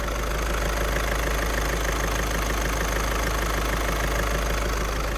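A Skoda Superb's 1.6-litre four-cylinder turbo diesel idles with a steady, clattering drone and a constant low hum, unchanging throughout and heard up close without any voices.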